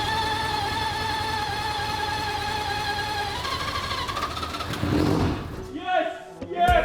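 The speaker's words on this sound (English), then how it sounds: "we're gonna see if our billet engine fires up" A billet dry-sump three-rotor rotary engine is cranked and tries to fire up, with steady whining cranking tones giving way to a few rough bursts and revs near the end.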